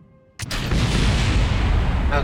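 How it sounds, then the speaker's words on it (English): A sudden loud explosion bursts in the Kerbal Space Program video game, followed by a sustained, roaring rumble that fills the rest of the moment. "Okay, mild explosion."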